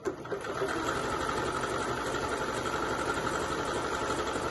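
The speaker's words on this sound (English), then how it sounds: "these running stitches and zigzag stitches, they do take longer than a straight chain stitch" A sewing machine runs a zigzag stitch continuously at a steady, even hum with a faint rapid mechanical patter, holding constant after a brief start.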